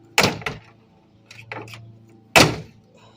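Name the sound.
pickup truck door being slammed shut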